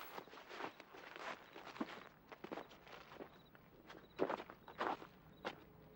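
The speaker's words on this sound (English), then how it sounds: "Sounds like we have somebody walking, possibly in the woods" Steady footsteps crunch through leaves and brush in woods at a walking pace, fairly close, with soft background ambience and no talking.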